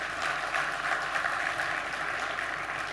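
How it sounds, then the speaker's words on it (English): Steady applause from a crowd after pitches at a competition, even and sustained, with no voices standing out. "Can we give them a round of applause?"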